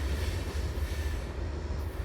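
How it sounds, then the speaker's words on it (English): A long Norfolk Southern freight train rolls past on the AS line in Marion, North Carolina, a steady heavy low rumble with constant wheel and car noise, close and loud throughout, no voices. "Pretty good sized train"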